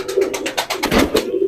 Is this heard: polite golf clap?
no